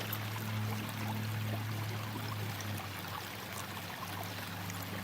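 A creek runs steadily with a broad, even rush of flowing water throughout, constant and fairly close, with a low hum beneath it and no talking.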